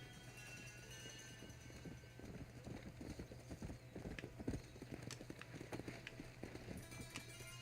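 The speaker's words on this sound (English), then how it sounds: "Go, horse, go." Rapid clip-clop of galloping horse hooves in Red Dead Redemption on Nintendo Switch, steady and fairly close, with a low constant hum beneath and occasional sharp clicks.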